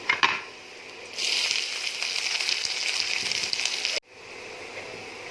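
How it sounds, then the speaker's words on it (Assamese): Onions drop into hot oil in a pan with chopped ginger and garlic and burst into a loud close sizzle that holds steady for a few seconds before cutting off abruptly. "পিঁয়াজখিনি ৰঙচুৱাকৈ ভাজিলোঁ"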